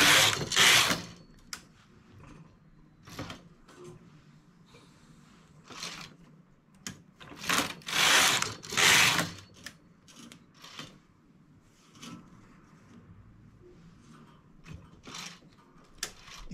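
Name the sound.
knitting machine knitting a striped cuff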